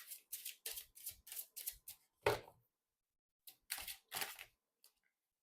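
An oracle card deck is shuffled up close in quick crisp riffling bursts. Two or three sharper snaps follow, then a pause and a few more shuffles, in a quiet room with no talking.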